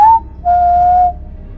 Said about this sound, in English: a whistling sound came from outside